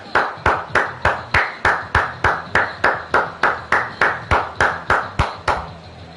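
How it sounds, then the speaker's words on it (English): Rhythmic clapping for a women's tag team wrestling match, sharp claps landing in a steady beat of roughly three per second, loud and close, without any speech. "Give these women a round of applause for putting on a good tag team match."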